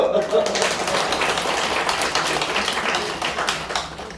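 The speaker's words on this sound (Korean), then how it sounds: "그냥 박수." A church congregation applauds together, a dense fairly loud patter of many hands filling the room while a voice talks over it.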